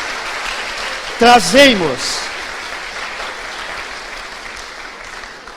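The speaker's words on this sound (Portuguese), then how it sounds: "aplaudo bem forte, é para Jesus" A church congregation claps loudly during a worship service, forming a steady wash of applause that runs throughout, with a preacher's voice briefly over it near the start.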